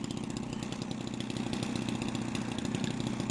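A model Edge 540 aircraft's small engine runs steadily outdoors in a garden, a continuous buzzing drone at even, moderately loud level with no gaps or talk.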